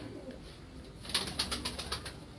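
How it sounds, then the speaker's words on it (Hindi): A golden Bajrai pigeon coos in a short series of soft, rhythmic calls, fairly close, over faint background noise. "हमारा गोल्डन बाजराई कबूतर है।"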